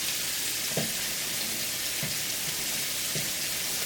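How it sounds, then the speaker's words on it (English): Steady, loud sizzling of chicken frying in a pan, a continuous hiss with a few soft clinks of a utensil against the pan. "the nice, delicious, tasty chicken that will sizzle this time."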